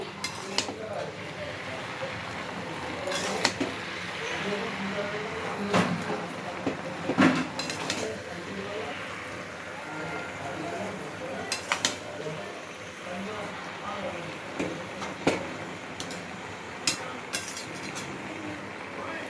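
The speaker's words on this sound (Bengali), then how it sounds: "শাকগুলো সবজির সঙ্গে ভালো করে নেড়ে নেব।" Malabar spinach is stirred with vegetables in a cooking pan, giving sporadic sharp clinks and scrapes of a utensil against the pan over a steady low background hum.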